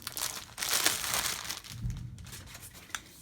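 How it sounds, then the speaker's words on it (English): Plastic casing being pulled and peeled off a cotton swab, close crinkling and tearing rustles in short bursts, quiet and alone without talk. "you can pull off the plastic"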